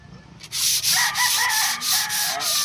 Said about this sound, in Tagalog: Magliha ta. Liha ta mga ka-friend.